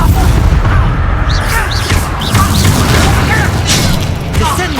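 Spell-casting combat in Hogwarts Legacy, with the Expelliarmus charm firing as booming bursts and crackling pops over a dense, continuous clash of effects, while voices chatter throughout.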